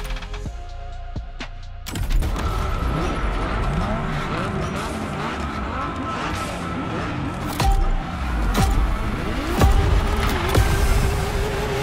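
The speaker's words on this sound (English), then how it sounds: "have you ever seen a Lamborghini skid? Well, you're about to." A Lamborghini Aventador in The Crew Motorfest roars to life and drifts, engine revving hard with long tire squeals and skids that rise and fall over about twelve seconds, loud and close.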